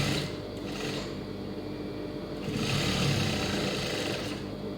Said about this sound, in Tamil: இப்போ வந்து வி பீஸ் தைக்கிறேன்.